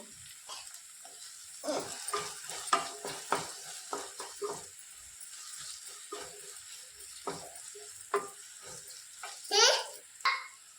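Tomato being stirred and fried in a pan for masala noodles, with soft sizzling and a series of scraping, clattering stirs that come and go, under faint background voices.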